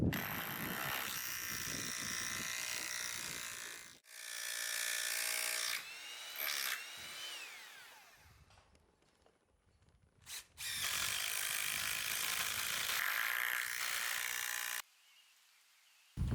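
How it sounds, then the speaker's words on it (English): A power drill bores holes and drives screws into a wooden framing plate in a post-and-beam barn, with long whirring runs broken by pauses, shifting pitch as it bites, and a final burst. "Drill the next hole, screw it down, pull it in, drill the next one, and drive it in, and so forth down the wall."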